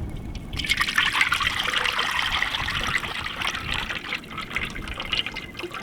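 Cooking oil pours in a steady, close trickle for several seconds, a continuous liquid splash while mutton boti pakoda is made, with no talking.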